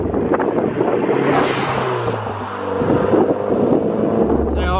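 Gusty high-desert wind buffets the microphone with a loud, continuous low rumble and roar that swells and eases across the whole stretch.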